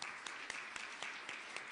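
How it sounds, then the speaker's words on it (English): Quiet applause from a small audience at a teachers' meetup in a London hotel, a soft steady patter with a few sharper distinct claps standing out, heard from a distance. "Okay, round of applause."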